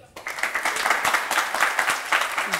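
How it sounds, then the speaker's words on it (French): An audience applauds a competing team during an elimination round of a game show: a dense, continuous wash of clapping from many hands, fairly loud and sustained throughout. "Est-ce qu'on peut l'applaudir?"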